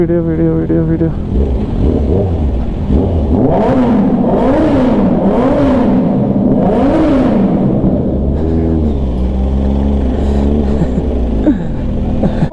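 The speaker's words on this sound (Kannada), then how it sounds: "ರೇವ್ ಮಾಡ್ತೀರಾ? ಮಾಡಿರಿ." A BMW GS Adventure motorcycle engine revs up and down in several close, loud surges over a steady idle, with people talking nearby.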